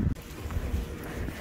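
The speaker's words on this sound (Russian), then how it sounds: "На улице такой ветер ужасный." Strong wind buffeting a microphone outdoors on a city street, a rough low rumbling gust noise throughout with a brief dip, with a voice talking faintly underneath.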